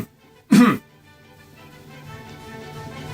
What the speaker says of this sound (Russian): Смотрите, я хочу кашлянуть.